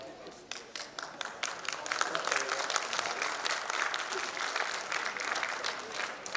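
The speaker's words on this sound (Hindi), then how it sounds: "जोरदार तालियां स्वागत करें" A crowd applauds steadily at a community annual general meeting, a dense wash of clapping that swells after the first second and continues throughout.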